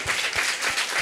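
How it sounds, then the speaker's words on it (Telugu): A church congregation claps together at a Sunday service marking Independence Day, a dense, steady round of close applause lasting about a second. "చప్పట్లు కొట్టచ్చు"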